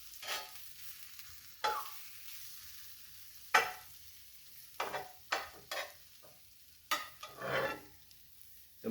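Freeze-dried eggs sizzle quietly in a carbon steel skillet, broken by several sharp scraping bursts as a spatula flips and chops them, close and clear with no talking.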